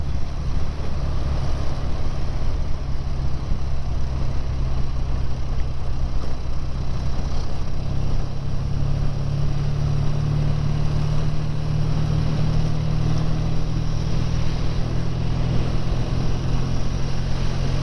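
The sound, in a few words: BSA A10 650 motorcycle being ridden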